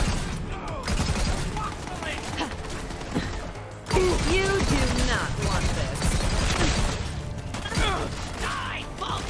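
Butcher, a legendary weapon in Borderlands 3, fires in dense sustained bursts of rapid gunfire, loud and close, with a sharper surge partway through and mechanical clatter mixed in.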